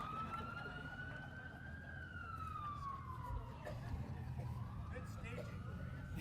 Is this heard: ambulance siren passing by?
yes